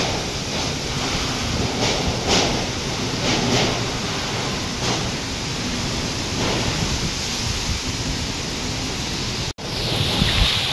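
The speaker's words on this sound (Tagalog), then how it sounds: "Sana paalis na yung hangin." Strong storm wind gusting and roaring against a house whose neighbours' corrugated metal roof sheets are flying off, a loud, continuous broadband rush with surging gusts and a brief dropout near the end.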